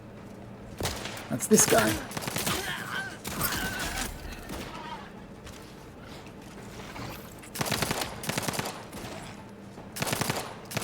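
Rapid bursts of automatic gunfire in The Outer Worlds 2, several loud clustered volleys spread across the stretch with quieter gaps, and someone talking briefly between them.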